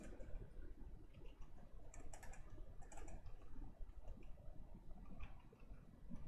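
Rapid, continuous clicking of a computer keyboard being typed on while working in Unreal Engine 4, close and steady throughout with no talking.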